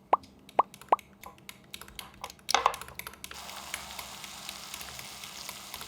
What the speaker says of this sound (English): Put the bacon in a pan and put the heat on low.